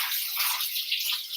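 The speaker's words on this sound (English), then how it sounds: "It's good to rinse off your cabbage too." Cabbage rinsed under a running tap while making potstickers, a steady close splash and hiss of water with no talking.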